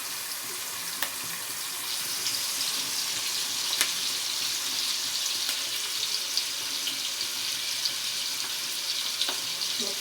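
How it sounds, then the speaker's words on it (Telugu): Chopped onions fry steadily in a pan with salt added for pulao, a soft continuous sizzle close by with no talk and only a few faint clicks across the whole stretch. "ఆనియన్ మంచిగా బ్రౌన్ కలర్ వచ్చేంత వరకు ఫ్రై చేసుకోవాలి"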